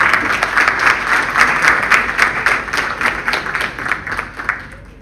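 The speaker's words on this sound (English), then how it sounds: "Once again, a round of applause." Sustained warm applause from a seated crowd welcoming Mr. Devendran at a formal event, dense steady clapping that gradually fades toward the end.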